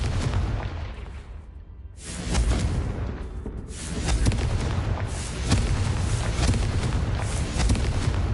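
Confringo blasting spell explosions in Hogwarts Legacy: a dense run of loud, booming blasts and crackling bursts, with a brief lull before the barrage resumes and continues steadily to the end.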